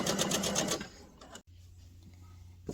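A sewing machine runs in a fast, steady burst as it stitches the side seams of an infinity scarf, then stops, leaving a quiet room with a faint click at the end.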